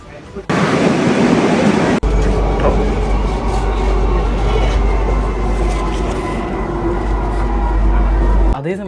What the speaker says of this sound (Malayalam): യെസ് മെട്രോ കയറാം